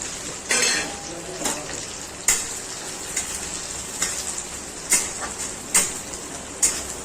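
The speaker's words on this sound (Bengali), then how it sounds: "ডালটা একটু ভাজা ভাজা হয়ে এসছে বন্ধুরা" Mung dal frying in a pan, stirred with a utensil that scrapes and clinks against the metal every second or so over a steady sizzle, close and fairly loud, with no talking.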